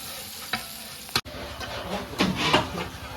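Onions for biryani fry in a pan with a loud, close hiss and stirring scrapes. A sharp knock of a utensil comes just past one second, then the sizzle swells as it is stirred again.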